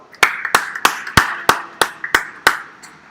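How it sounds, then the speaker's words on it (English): Scattered hand claps from a small audience at a county fair senior showmanship goat and sheep show, about nine sharp separate claps in a loose, steady rhythm, fairly close and with no talk over them. "let's go ahead and give this young man a nice round of applause for the job"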